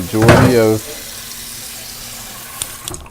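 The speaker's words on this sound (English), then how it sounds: "I run it underneath hot water" Hot tap water runs over a cast iron skillet, a full gushing spray for under a second before it quiets to a low trickle, with a few small clinks near the end.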